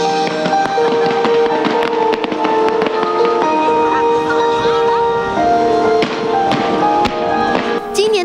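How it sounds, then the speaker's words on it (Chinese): New Year fireworks burst over Taipei 101, a dense run of sharp cracks and pops from a crowded display with a sustained musical tone and crowd noise underneath. "台北101烟火大秀包含60秒灯光秀，总共释放长达6分钟的烟火，庆祝新年到来。"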